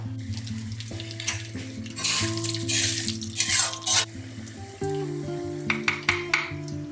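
Cumin, mustard seeds, dried red chillies, chana dal, urad dal and curry leaves crackle and sizzle in hot oil, close and loud in bursts over a steady background hum, with no talking.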